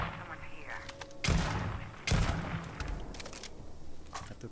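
Two heavy gunshots boom in Starfield about a second apart, close and punchy with rumbling tails, amid quieter clicks and game noise while voices talk around them.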